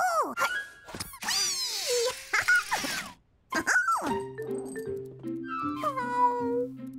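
A cartoon cat meows repeatedly in expressive, drawn-out cries and squeaks alongside other animated animal vocal sounds, with no speech.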